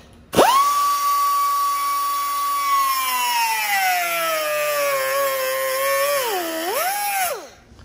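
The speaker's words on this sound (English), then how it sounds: "I'm gonna make a little cut going this way with this cutoff wheel to give me a spot" A cutoff wheel cuts into scrap aluminum for a hood scoop. After a sharp start, its loud, piercing whine holds steady, then dips and wavers as the wheel bears into the metal, and it stops near the end. No one talks.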